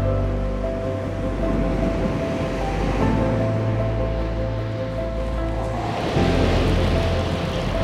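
Rough sea surf breaking continuously on Chesil Beach, a shingle beach in the UK, a steady roar of waves with wind noise, swelling louder near the end; no talking.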